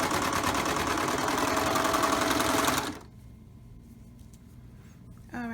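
A sewing machine stitches a t-shirt neckline in a fast, steady mechanical whir for about three seconds, then stops, leaving quiet handling sounds before a brief restart at the end.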